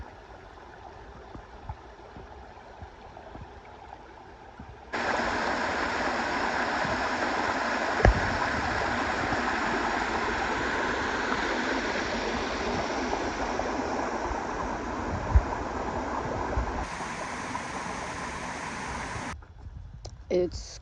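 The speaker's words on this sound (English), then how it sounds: "So here's a pretty stream." A stream on a hiking trail rushes steadily, faint at first and then loud and close for most of the stretch before cutting off near the end, with someone talking over it.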